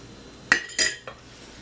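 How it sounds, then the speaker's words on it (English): A utensil mixing flour into grated potatoes in a bowl for latkes, giving three sharp clinks against the dish spaced a fraction of a second apart, close and clear, then quiet. "So I'm just mixing the flour in"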